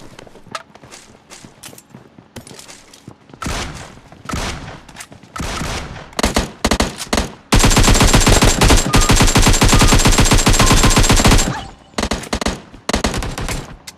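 Rapid gunfire in the PUBG battle royale video game, with pistol shots leading into a dense, loud sustained burst in the middle, then scattered shots again, with no talking.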